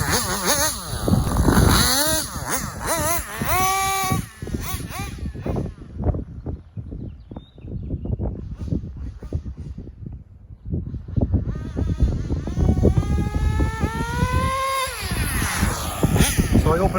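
A nitro-powered RC engine runs, revving and bogging unevenly with rising and falling pitch as its mid-speed fuel needle is tuned, loud and close, dropping to a rough idle midway before climbing again.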